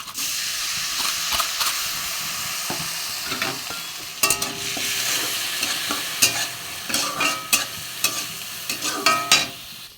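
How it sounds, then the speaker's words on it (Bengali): Rice frying in ghee in a kadai, stirred with a spoon, with a steady sizzle and irregular scraping clicks that grow busier and louder toward the end; no voices. "চালটা ভেজে নেব।"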